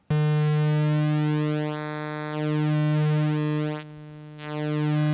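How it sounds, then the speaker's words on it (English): A sustained buzzy square-wave tone from a Behringer Neutron synthesizer whose timbre slowly shifts and thins, then swells back, as the pulse width is swept over several seconds. "Now we can alter the width of the square wave"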